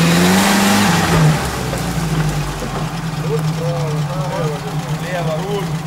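An off-road UAZ-469 or Niva climbs a rocky cliff, its engine revving hard up close before settling into a lower labouring drone, with people talking over it.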